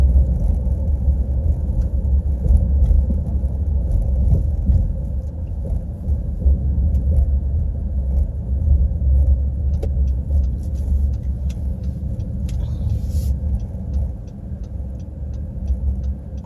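A Honda pickup truck drives through a downtown area, heard from inside as a steady low engine and road rumble that stays loud and even throughout.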